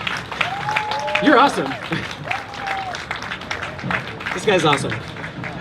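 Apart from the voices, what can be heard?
audience applause for Ethan Slater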